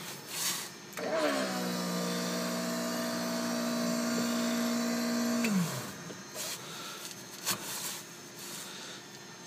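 A light aircraft with electronic ignition being primed for a cold-weather start: a steady electric whine with a falling pitch drop at the end, running for several seconds and fairly loud and close, with no talk.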